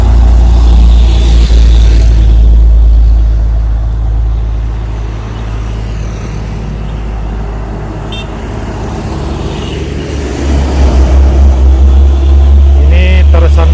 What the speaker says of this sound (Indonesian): suasana Jalinsum, kendaraan ramai padat.